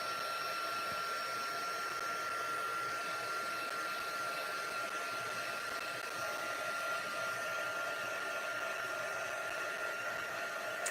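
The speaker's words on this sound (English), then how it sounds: "So actually I'm going to hit this with the heat tool for just a minute" A heat tool blows steadily to dry a freshly stamped card: an even, continuous whooshing drone with a faint high whine, holding steady throughout with no talking.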